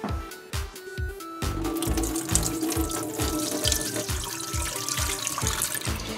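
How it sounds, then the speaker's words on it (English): Whey pours off freshly made soft blue cheese, giving a steady running, splashing liquid sound like water from a tap, fairly close and continuous, with no talking. "I'm just going to put that down for a moment or two and get rid of the whey."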